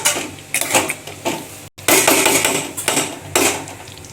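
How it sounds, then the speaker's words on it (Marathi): A spoon stirs a creamy Afghani egg curry in a pan, making close, loud scraping and clanking strokes in a repeated rhythm, broken by one brief silent gap. "आता हे छान ढवळून घेऊया"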